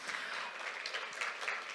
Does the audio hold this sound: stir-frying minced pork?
no